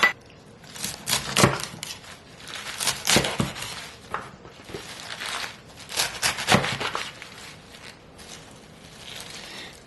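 Yu choy is chopped on a wooden cutting board in a home kitchen, with irregular sharp knife knocks and crisp crunches spaced a second or two apart, near and moderately loud.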